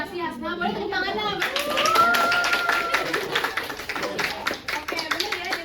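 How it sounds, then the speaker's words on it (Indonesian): A classroom of students claps during a microteaching lesson on banking institutions, starting under voices and then turning into a burst of separate sharp hand claps that gradually thin out. "Boleh tepuk tangannya."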